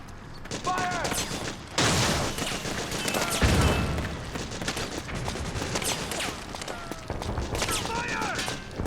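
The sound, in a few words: suppressing gunfire in video game Metal Gear Solid 4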